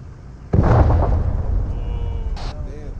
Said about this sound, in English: Poncho observing secondary explosions near that IED.